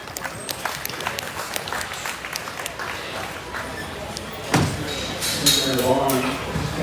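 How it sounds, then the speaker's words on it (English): Scattered applause rises from spectators at a junior crossbred gilt livestock show in an arena, light, uneven clapping over a noisy background, with voices and a bump of activity partway through. "Let's give them a round of applause as they head on back"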